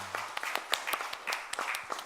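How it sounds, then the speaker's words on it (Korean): A church congregation claps during a worship service, giving a faint, scattered patter of individual hand claps rather than a dense ovation. "하나님께 영광의 박수를 드리겠습니다"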